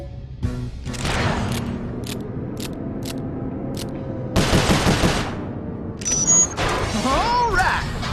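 Rapid bursts of gunfire in the Sly Cooper: Thieves in Time video game, loud repeated shots and clattering impacts in several volleys, with game music and character voices mixed in.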